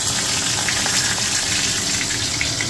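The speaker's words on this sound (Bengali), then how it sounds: "চলো আগে বেগুন ভাজাটা এই অবস্থাতেই ভেজে নিই" Brinjal slices frying in hot oil, a steady close hiss and crackle of sizzling that stays even throughout.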